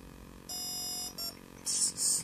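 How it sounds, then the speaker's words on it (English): A TowerPro MAG 8 18A ESC gives a sustained electronic beep tone during stick programming, followed by a shorter beep and then two harsher bursts of tone, faint and clean over a quiet hum. "Long beep here."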